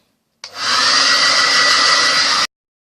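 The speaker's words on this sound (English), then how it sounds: "Get my hairdryer, put it on the hottest setting, and then go for it." A hair dryer on its hottest setting blasts on with a steady, loud whoosh, running evenly for about two seconds before cutting off abruptly.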